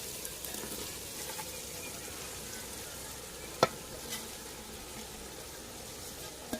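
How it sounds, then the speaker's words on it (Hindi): Shredded cabbage frying in a pan of browned masala in a village kitchen, giving a steady, faint sizzle with one sharp utensil clink midway and another at the end. "अभी हमारा मसाला बिल्कुल ब्राउन हो गया और इसमें अभी डालेंगे बंद गोभी"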